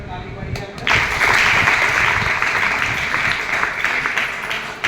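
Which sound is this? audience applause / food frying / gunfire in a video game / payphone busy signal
audience applause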